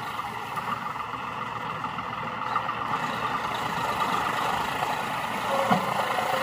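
A John Deere tractor hauling a 16-foot trolley during the maize harvest runs with a steady, droning diesel hum that builds slightly toward the end, with no voices.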